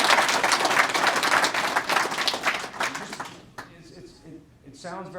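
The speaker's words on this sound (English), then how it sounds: "You guys can clap if you want." Audience clapping at a graduation ceremony for a prisoner reentry program, a loud burst of applause that fades after a few seconds as a voice begins speaking.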